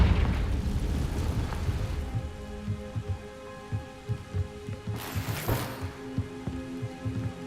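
An explosive Confringo spell cast in Hogwarts Legacy erupts as a bright burst midway through. A rumbling, pattering game ambience with soft repeated thuds runs throughout, and no voices are heard.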